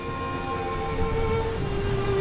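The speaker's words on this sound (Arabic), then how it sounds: "ايه ده كمان الدنيا بتمطر؟" Rain pours in the Roblox game, a dense, even, loud patter with a faint steady tone running beneath, no speech over it.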